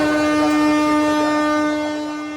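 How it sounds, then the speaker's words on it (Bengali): A train's horn blares in one long, loud, steady blast before departure at the start of an Eid holiday journey, holding a rich harmonic tone that eases slightly as it ends. "হর্ন বাজিয়ে ট্রেন জানান দিচ্ছে"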